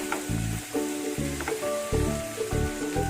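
Vegetable and paneer mixture sizzles steadily in a pan while being sautéed, a close, continuous frying hiss broken by intermittent scraping stir strokes.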